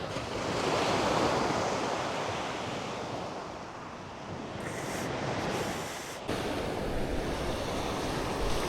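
Ocean surf rolling onto the shore of an Atlantic coast island, a steady loud wash of breaking waves with wind buffeting the microphone, swelling and easing over time.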